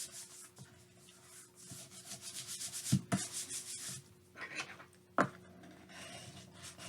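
Fabric is rubbed onto a junk journal page, a soft, uneven scratchy rubbing close by and quiet, with a couple of brief bumps.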